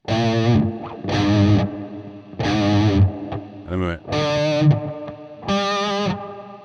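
Distorted electric guitar chords ring out in several sustained bursts, each with a wavering vibrato, loud and up front.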